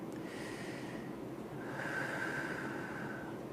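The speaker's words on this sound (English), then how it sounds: "Here's the breath for singing that we should use." A singing teacher demonstrates the low breath used for singing: a soft airy inhale followed after a short gap by a longer, steadier breath out, heard up close without any talking.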